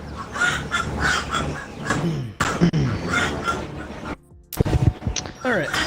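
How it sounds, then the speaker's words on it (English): Backyard chickens near the end of brooding season squawk and cluck loudly in bursts while people talk over them almost throughout, with a brief quiet gap near the end. "Some chickens are loud today."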